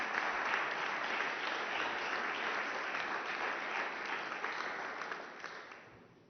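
Steady audience applause at a press conference during a recovery conference signing session, dense even clapping that holds for several seconds and then tapers off toward the end.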